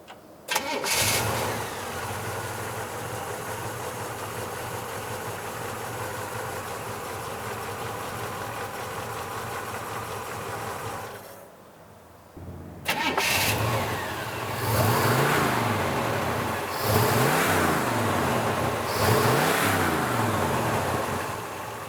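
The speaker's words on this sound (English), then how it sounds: "the engine compartment on this thing is really nice. Let's listen to it run." A 1965 Chevrolet Malibu SS convertible engine cranks and catches, then runs at a steady idle for several seconds before a pause and a few throaty revs.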